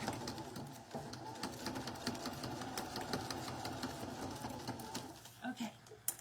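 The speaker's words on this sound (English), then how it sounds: "I just have a cheap sewing machine, Lindy." A cheap sewing machine stitches through a paper birthday card, giving a steady whirring mechanical chatter that runs almost the whole time, with a few louder knocks near the end.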